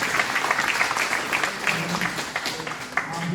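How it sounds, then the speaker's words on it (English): An audience at a county residents' meeting in Sandy Ridge, Stokes County, North Carolina claps in a brief, dense round of applause, close and fairly loud throughout. "Let's give them a round of applause."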